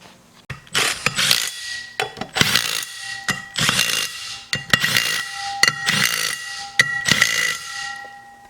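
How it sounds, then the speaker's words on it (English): Power tool driving bolts in while fitting an adapter on a budget diesel truck, loud bursts of whirring and ratcheting in repeated runs of about two seconds with clacks between, close, no talk. "we're going to thread our bolts in on this side"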